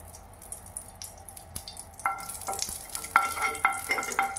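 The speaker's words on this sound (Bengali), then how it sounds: "ঘিটা দেওয়ার কারণ হলো এই এলাচগুলো একটুখানি হালকা ফ্রাই করে নেব।" Cardamom pods fry lightly in a small amount of ghee, a faint sizzle that rises about halfway through, with repeated light clicks and taps of stirring close by and no speech.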